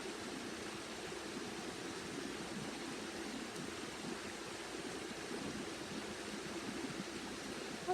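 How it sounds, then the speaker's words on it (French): River water flowing in a steady, unbroken rush that holds at an even, moderate level throughout, with no other sounds standing out. "Rends-toi présent aux réverbérations de ce mouvement de rivière venu du dehors pour aller stimuler, activer ta rivière du dedans."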